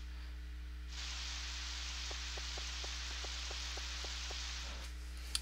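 Steady rain hiss from the rainy-day weather in the video game Harvest Moon 64, starting abruptly after a quiet moment and holding level, with faint evenly spaced ticks under it and no background music.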